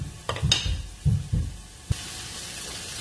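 Onion hitting a hot pan for chicken fajitas: a few soft thumps and a burst of sizzle, then a steady close frying hiss that settles in for the rest of the moment.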